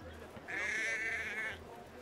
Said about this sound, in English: Wow, goat, why are you loud?